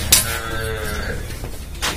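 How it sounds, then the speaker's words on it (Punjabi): A dairy cow, from a small group of HF and Jersey cows kept for sale, lets out one loud, close, drawn-out low moo lasting most of two seconds, with no talk. "ਜਰਸੀ ਗਾਂ ਦੇ ਸ਼ੌਕੀਨ ਬਹੁਤ ਸਾਰੇ ਵੀਰ ਆ"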